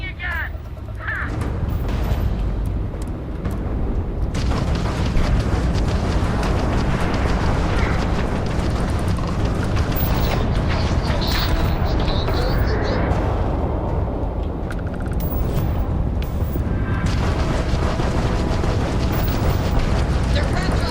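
Spaceship weapons blast away in Starfield, a continuous loud roar of gunfire and explosions packed with booms and bursts, with voices talking over the barrage.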